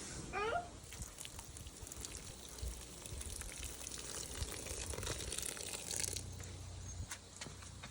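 Water splashes and gushes steadily onto the soil and leaves of a curry leaf plant, a soft continuous pour close by, with a brief high squeak at the start.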